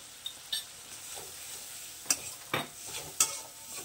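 Ginger paste stirred in a pan while cooking a bean (seem) kalia, a soft scraping hiss with a few sharp utensil clicks against the pan, close and alone.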